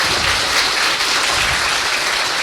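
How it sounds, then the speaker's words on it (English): Audience applauding at an MBBS white coat ceremony, a dense, steady wash of many hands clapping together, loud and sustained throughout without a break. "So can we hear it for you? A big round of applause."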